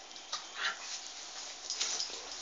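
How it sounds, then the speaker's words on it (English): Dogs whimpering and yipping softly indoors, short faint whines in uneven bursts over a steady background hiss, with no one speaking. "That's just me and my dogs."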